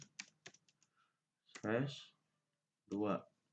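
A few quick keystrokes tap on a computer keyboard while typing commands, sharp clicks at the start followed by a voice speaking over two short stretches.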